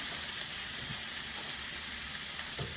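Fajita filling sizzles steadily in a hot cast iron pan, a dense, close frying hiss with a few faint pops and light stirring sounds, no voices.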